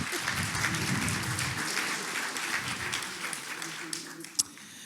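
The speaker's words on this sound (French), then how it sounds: "Nous pouvons l'applaudir." An audience applauds a guest being introduced at a French political debate event; dense, steady clapping fills most of the stretch, heaviest at the start and thinning slightly toward the end, with a sharp isolated knock near the close.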